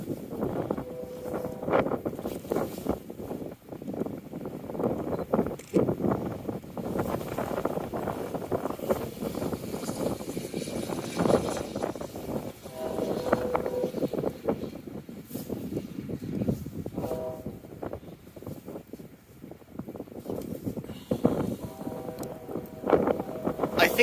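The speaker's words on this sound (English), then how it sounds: "very windy." Strong wind on a very cold day beside a railway line, heard as buffeting gusts across the microphone in uneven surges, with occasional talk.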